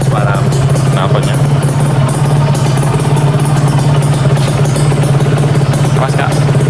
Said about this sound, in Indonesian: Ya, ini suara knalpotnya.